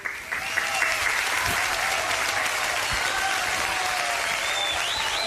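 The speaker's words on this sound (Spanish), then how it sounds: "Le pido un fuerte aplauso, señor director" Sustained audience applause welcoming a guest on a Paraguayan television program, dense even clapping from a studio crowd with faint whistles, steady from start to finish.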